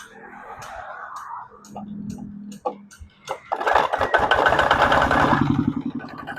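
A Kubota ZT155 DI Plus hand-crank single-cylinder diesel engine is cranked with a few clanking pulls, then catches and runs with a loud, steady chugging rhythm nearby.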